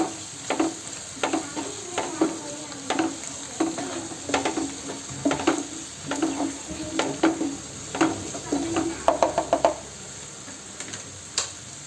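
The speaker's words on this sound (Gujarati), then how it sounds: "પેસ્ટ નાખ્યા પછી હલાવી દઈશું." Ginger, garlic and chili paste stirred in hot oil for a corn curry, steady sizzling under a regular series of sharp spatula taps and scrapes against the pan, close and unvoiced.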